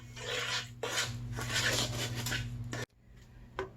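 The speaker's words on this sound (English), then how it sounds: "And now stir everything together." A spoon stirs sugar, cinnamon and ground clove into a 16th-century apple butter mixture, giving a steady scraping and clinking against the pot for most of the stretch, then an abrupt stop and one faint knock.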